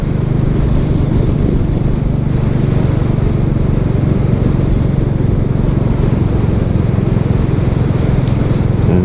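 Royal Enfield Classic 350 motorcycle on a night commute: a steady low engine thrum and rushing wind noise hold constant and close throughout, with no speech.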